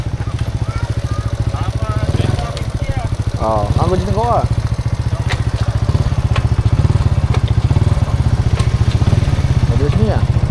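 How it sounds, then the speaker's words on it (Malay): A motorcycle engine runs steadily and loudly close by, with a throbbing low mid-range note throughout, while people talk over it. "Tu motor dia tang tu."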